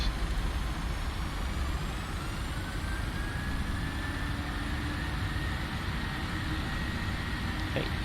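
Twin engines of a PMDG 737 NGXu airliner in Prepar3D v5.2 spool up to takeoff power, a steady loud broadband roar with rising whine tones holding throughout, no talk over it.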